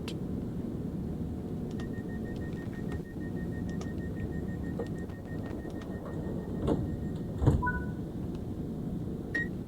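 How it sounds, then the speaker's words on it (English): The doors of a Class 377 electric train close at Bishopstone on the East Coastway line in Train Sim World 5. Repeated warning tones play over a steady hum, followed by a firm thud as the doors shut. "So let's get the doors shut."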